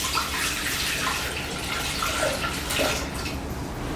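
Tap water pours steadily into a Thermomix bowl, a continuous close splashing rush that fills the whole moment without pause, with no voices.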